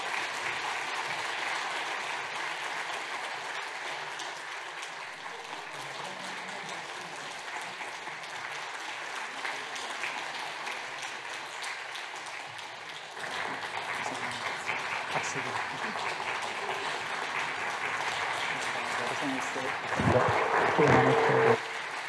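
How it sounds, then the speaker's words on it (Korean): A church congregation applauds during a Christmas Sunday service, a long steady wash of clapping at moderate level that swells slightly midway, with some voices mixed in. "네, 박수."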